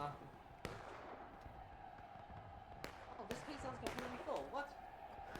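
Repeated cannon barrages booming across a Civil War battlefield in a video game, sharp distant reports recurring irregularly over a steady low rumble of battle noise, with people talking throughout.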